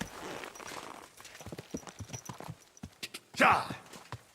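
Rhythmic hoofbeats of a galloping horse in Kingdom Come: Deliverance II clatter steadily, with a louder burst of noise near the end.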